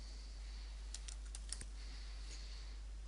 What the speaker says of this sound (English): Type your search into the search box